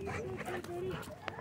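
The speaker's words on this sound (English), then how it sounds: "he's a nice looking dog" A year-old dog at a dog park gives short whimpering, yippy vocalizations close by, mixed in with people talking over it.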